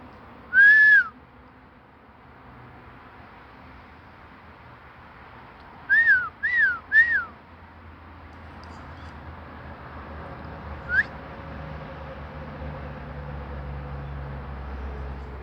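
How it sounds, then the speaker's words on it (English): A bird whistles outdoors: one clear rising whistle, then a quick run of three more a few seconds later and a faint short one after, all over a low, steady background rumble. "the bird was trying to see if I was a bird or something, because he jumped out and he did, you know, like some off the wall whistling"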